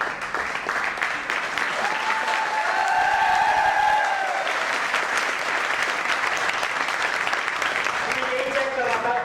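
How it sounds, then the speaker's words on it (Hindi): Loud, sustained crowd applause for Govind Bhai at a network marketing goal-setting training session, dense clapping filling the room throughout with a few voices and cheers mixed in. "और एक बार जोरदार तालियां गोविंद भाई के लिए"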